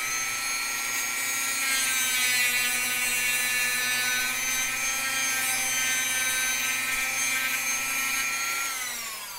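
A Dremel rotary tool runs at high speed, cutting steadily for several seconds with a sustained, close, whining buzz that winds down at the end.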